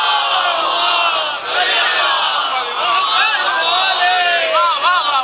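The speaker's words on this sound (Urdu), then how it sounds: "درود پڑھیں محمد آل محمد پر" A mosque congregation at a Muharram majlis in Kharad recites durood aloud together, a loud, sustained wash of many voices with rising, chant-like inflections running throughout.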